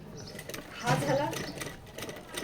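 A sewing machine stitches along the edge of a folded fabric piece, a quick steady mechanical whirring and ticking that runs close and clear beneath someone talking.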